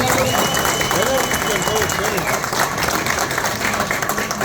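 An audience at an association meeting applauds steadily throughout, a dense wash of many hands clapping at an even level, with a voice briefly audible through it.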